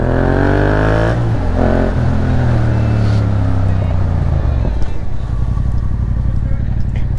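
A motorcycle engine rumbles steadily close by while riding in traffic, its pitch rising and falling as it revs and shifts, loud and continuous throughout.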